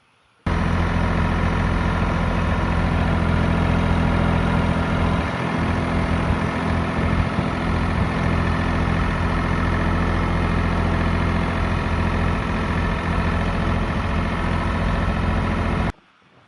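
A farm tractor's engine idles steadily at close range, a constant low rumble holding unchanged for about fifteen seconds with no voices.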